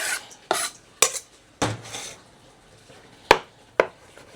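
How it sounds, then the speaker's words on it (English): A knife chopping on a board while a yogurt-marinated BBQ chicken dish is prepared, about seven sharp, separate knocks at uneven intervals, close and fairly quiet with no voices. "I'm gonna also chop with the knife."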